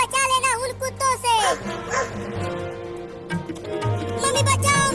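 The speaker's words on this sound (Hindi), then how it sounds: "वो कुत्ता आ रहा है" A cartoon dog barks in short yips mixed with whimpers, close and loud, under and between animated character voices talking.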